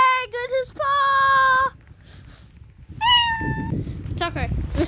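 A cat meows several times, long drawn-out cries close by and loud, with short breaks, while people talk in the background and a hiss of room noise rises toward the end.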